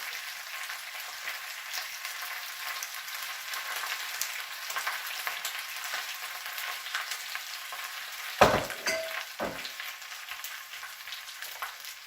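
Spinach frying in a pan gives a steady close sizzle, broken once by a sharp clatter as it is stirred, with no talking over it.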